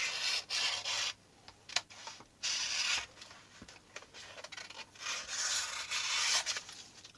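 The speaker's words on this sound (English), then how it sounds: "I'm just going to trim off that edge." Paper being trimmed with a cutter or scissors while crafting Christmas digital paper projects, giving soft rubbing, rasping cuts in several short bursts, close and quiet, with no talking.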